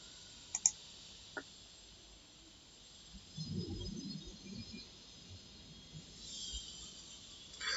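A computer mouse clicks a few times sharply and quietly near the start, followed by faint low murmuring and quiet room noise.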